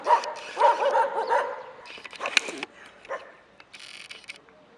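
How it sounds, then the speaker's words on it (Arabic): Several dogs bark and yip in a street in Alexandria, Egypt, in bursts of repeated barks at middle distance over faint background noise, with no talk. "طول الليل عمالين يهوهوا، مش عارف انام."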